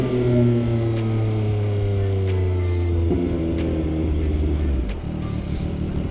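A CF Moto 675SS motorcycle rides through city streets, its engine droning loudly and steadily with pitch shifts as it shifts gears and accelerates, close up with wind rush and no talk.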